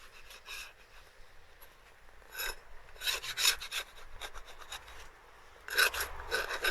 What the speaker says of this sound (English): And then scrape this.